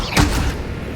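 A fire spell cast in the video game Hogwarts Legacy, a single loud whooshing burst with a low thud that fades over about a second, heard alone without talk.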